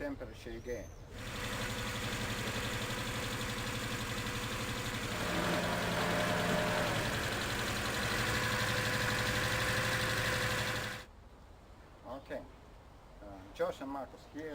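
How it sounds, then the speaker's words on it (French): Engine left running for ten minutes during a heat test, a steady idling drone that rises slightly midway and then cuts off, followed by quiet room sounds and a few small knocks. "on laisse le moteur fonctionner pour 10 minutes"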